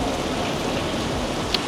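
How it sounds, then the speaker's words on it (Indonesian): Heavy rain falls outdoors in a dense, steady hiss of downpour that stays constant throughout, close and loud, with no voices over it. "Nah, beneran hujan kan di sini, jadi deras."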